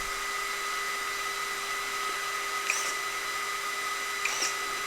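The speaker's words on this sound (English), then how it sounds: "Watch the servo." An RC servo on an Axial SCX6 crawler sits under a steady electric hum and gives two short whirring bursts as it swings between positions, fairly close and moderately loud.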